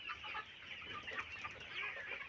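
Soft, continuous clucking from a flock of Sonali hybrid chickens on a farm, a steady murmur of overlapping calls at moderate distance with no talking.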